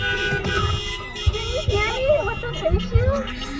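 Car horns honk repeatedly in a drive-in theater lot during a 50th birthday gathering, overlapping tones mixed with crowd noise and people talking nearby.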